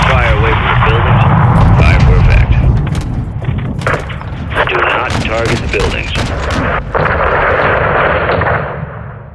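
Heavy booms and rolling gunfire from a close air support strike on a convoy in Call of Duty Modern Warfare II, loud and continuous with repeated sharp blasts, while voices talk over the barrage.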